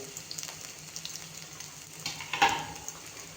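Cumin and garlic fry gently over a low flame in a pan for a Maharashtrian tempered dal, a soft, steady sizzle with a brief louder crackle partway through.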